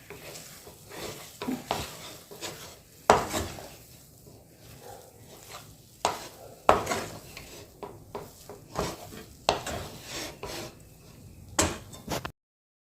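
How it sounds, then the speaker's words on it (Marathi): Gram flour and grated fresh coconut mixture being stirred in a pan with the gas switched off, a spoon scraping and knocking against the metal in repeated close strokes, with a few sharper clanks. "बंद केल्यानंतर पण दोन मिनिट असं हलवून घ्यायचं"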